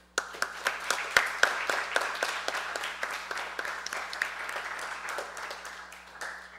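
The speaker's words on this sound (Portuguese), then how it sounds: "Uma salva de palmas para todos os trabalhadores." Sparse, scattered clapping from a small audience at a formal speech, individual claps clearly separated and fairly close, continuing steadily and thinning toward the end.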